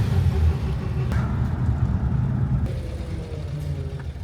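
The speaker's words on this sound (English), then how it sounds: "today he's going to be driving me up to Port Townsend in his 1940 Chevy" A 1940 Chevrolet classic car's engine runs with a steady low rumble, continuous and fairly close, with faint mechanical ticks over the drone and no talk.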